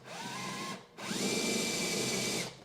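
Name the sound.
drilling a hole with a drill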